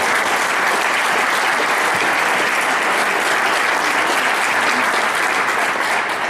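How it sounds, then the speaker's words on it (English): Dense, sustained applause from a crowd at a land trust conference reception, loud and uniform throughout with no break. "so we could give them a round of applause."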